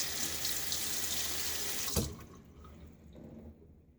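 A bathroom tap runs in a steady loud hiss while rinsing during a razor shave, with a sharp clunk near the middle as the flow is cut off, leaving quieter drips and handling noise afterward.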